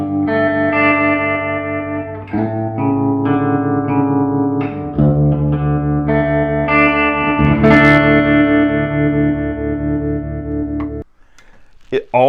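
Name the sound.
baritone Fender Squier electric guitar playing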